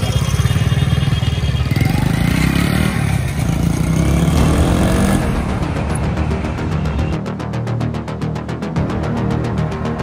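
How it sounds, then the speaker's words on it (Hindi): A Russian motorcycle being ridden, its engine running loud and steady throughout, throbbing and revving with some rattling clatter and wind rush, with no talking over it. "तो आपको चला के दिखाता हूँ कि ये चलने में कैसी है"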